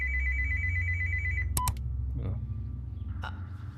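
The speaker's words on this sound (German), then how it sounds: "Telefon." An old-style telephone bell rings in the video game A Fisherman's Tale 2, loud and close, with a sustained tone before a short burst of sharp clicks and beeps, over a steady low music bed.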